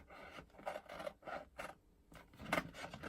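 Careful cutting around a transfer on a DIY welcome slate, heard as short, close, quiet rasping and scraping strokes in irregular bursts.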